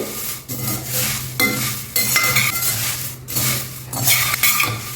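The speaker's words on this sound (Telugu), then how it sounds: "ఇచ్చిన ఈ కడాయి దాని మీద పెట్టేసేయండి స్టవ్ మీద ఇది సిమ్లోనే పెట్టుకుని వేయించుకోండి" Puffed rice roasting in a metal kadai on a stove over low heat, stirred continuously, giving a close, loud rattling and scraping with light clinks and a faint sizzle, with no voices.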